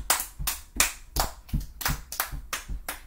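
Hands clap in a loose rhythm, about eight sharp close claps with short gaps between them, with no voices.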